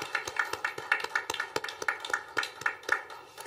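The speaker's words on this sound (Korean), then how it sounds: "사랑의 마음을 담아 박수 보내드립니다" A church congregation at a New Year's Eve worship service claps in applause, a steady run of fairly close, rhythmic hand claps over a few seconds with no talking.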